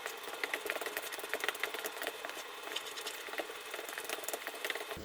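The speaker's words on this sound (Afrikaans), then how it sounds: "Verskoon die wasmasjien wat so raas" A noisy washing machine washing overalls in a home kitchen, giving a continuous rattling, whirring drone with a fine patter that holds steady throughout.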